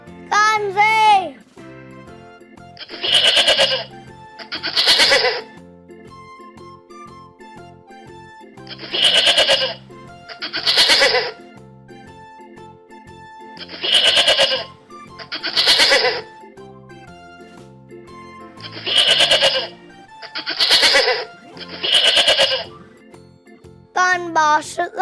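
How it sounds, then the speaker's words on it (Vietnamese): A goat bleats again and again in loud, wavering cries that come in pairs and triplets, each set spaced by short pauses, over light music in a children's animal-sounds lesson. "Con dê."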